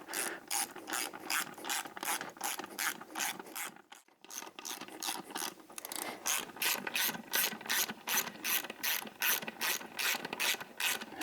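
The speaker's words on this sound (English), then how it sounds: "You're gonna do all 25 bolts at 7 foot-pounds, and then you're gonna do the 14." Torque wrench ratcheting on beadlock wheel bolts during a first-pass tightening round, a close, steady run of rapid ratchet clicks in regular back-and-forth strokes with one brief pause, no voices.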